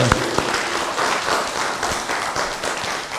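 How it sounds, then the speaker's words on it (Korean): Congregation clapping during a Sunday worship service in a church, a dense, steady burst of applause with a few sharper near claps early on. "우선에 박수 한번 합시다."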